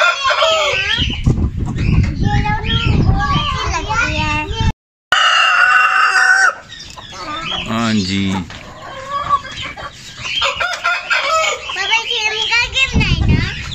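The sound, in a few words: Aseel rooster crowing and clucking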